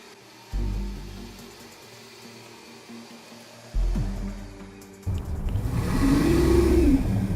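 A Toyota RAV-4 AWD engine revs on a roller traction test rig, rising in steady surges that grow louder and rougher toward the end, with whirring from the spinning rollers.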